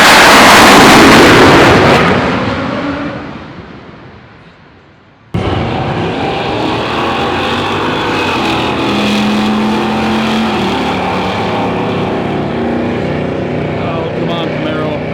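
A Camaro drag racing down the strip: a loud, close engine roar that fades away over several seconds, then a sudden cut to another steady, loud engine and crowd noise, with talk underneath.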